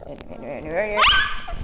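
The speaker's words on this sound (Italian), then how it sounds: "Ara, facciamo vedere pure l'altro cane" A dog gives a short whining yelp that rises in pitch, close by, while people talk in the background.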